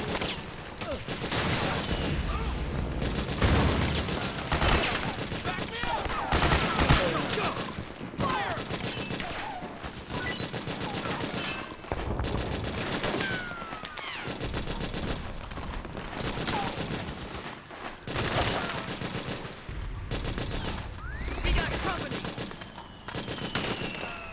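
Dense, sustained gunfire and explosions from Metal Gear Solid 4: Guns of the Patriots on PS3, with bursts of machine-gun fire and rattling volleys filling the whole stretch under shouted battle commands.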